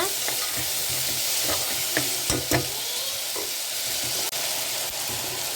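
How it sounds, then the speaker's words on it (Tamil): Chopped tomatoes and onions sizzle steadily in a pressure cooker, with a few sharp scraping stirs of a spoon against the metal pot and a constant frying hiss throughout. "குக்கரில் சேர்த்து நல்லா வதக்கி விடுங்க."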